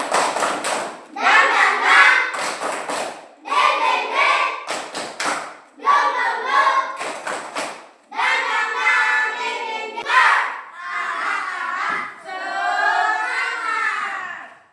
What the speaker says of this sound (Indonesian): kita tepuk semangat ya, Nak. Tepuk semangat. 1, 2, 3. Tepuk semangat.